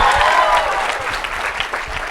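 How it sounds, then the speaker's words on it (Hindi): Audience applause at a film trailer launch event, with Akshay Kumar present as special guest; dense, steady clapping from a crowd fills the whole stretch at close range, easing slightly after the first moment, with faint whistles over it. "जोरदार तालियां।"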